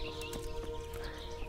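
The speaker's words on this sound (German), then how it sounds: "jetzt habe ich hier zwei Pferde" Horse hooves clip-clop in the medieval video game Kingdom Come: Deliverance. Rapid, evenly spaced hoofbeats sound over a steady low background hum.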